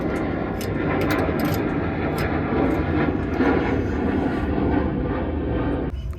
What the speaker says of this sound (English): I live over a flight path. I always hear the airplanes.